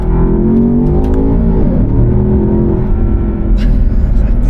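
The 626 bhp Land Rover Defender Octa driven in Octa mode, a loud, close engine drone with rising and falling revs heard from inside the cabin.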